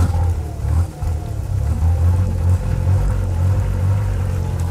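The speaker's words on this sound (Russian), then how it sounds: "Здесь есть спортивный глушитель и обычный глушитель." A 1930 Voisin C14 car engine runs through an open sport muffler, giving a deep, steady, throaty rumble with slight swells; close and alone, with no voices.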